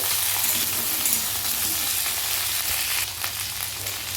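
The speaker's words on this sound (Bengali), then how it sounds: "এখন পর ঢাকনাটা খুলে আবার একটু নেড়ে দেবো সবজিটা" Vegetables fry in a pan with a loud, steady sizzle that goes on throughout, easing a little near the end and stirred now and then.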